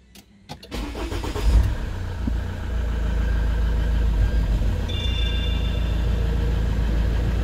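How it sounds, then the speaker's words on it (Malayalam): A Mahindra XUV500 started by push button: a short starter whirr catches and the engine rises to a brief rev, then settles into a steady, close idle hum that continues to the end. "വണ്ടി സ്റ്റാർട്ട് ചെയ്യാനായിട്ട് പുഷ് ബട്ടണിലൊന്ന് പ്രസ് ചെയ്യുക"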